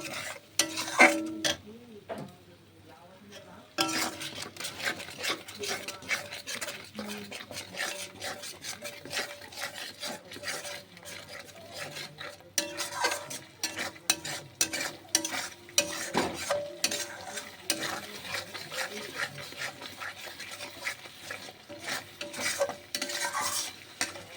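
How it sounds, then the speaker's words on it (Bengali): Spice paste stir-fried in a kadai with a splash of water, giving a steady scraping and stirring with a soft sizzle and occasional clinks of a spoon against metal, close and continuous after a brief quiet pause near the start. "ভালো করে মশলাটা আমি কষিয়ে নেব।"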